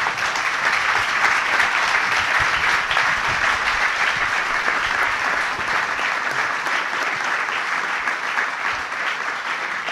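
Sustained, dense applause from a conference audience at a French talk on nuclear energy. The clapping stays loud and steady for the whole stretch and tapers only slightly.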